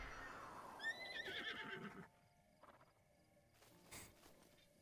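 A horse in Zelda: Breath of the Wild gives a clear, fairly close neigh, a descending whinny lasting about a second, followed by softer clip-clop and shuffling sounds.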